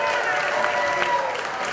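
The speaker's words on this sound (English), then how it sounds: "Let's cheer that" A dense crowd of friends and supporters at an evening welcome-home celebration at a market, applauding and cheering in a steady continuous roar, loud and close, with voices mixed into the noise.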